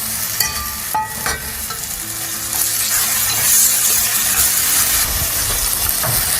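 Tomato sauce for restaurant-style pizza reducing in a pot on the stove, sizzling and bubbling loudly and continuously while a spoon stirs it, with occasional scrapes and clinks against the pot.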